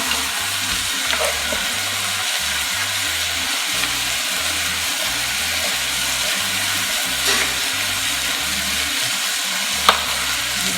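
Steak and sliced onion fry in a pan with a steady, close sizzle while a utensil stirs and scrapes through them in a repeated rhythm, with an occasional sharp click.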